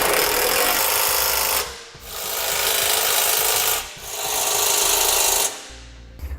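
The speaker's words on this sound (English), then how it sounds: "we're going to go ahead and snug them up, and I'm going to be using a 17mm socket" A 17mm socket driving trailer hitch bolts while a Curt hitch receiver is installed on a 2014 Volvo S60. Three long, loud, close buzzing-rasping runs are separated by brief pauses, with no talk.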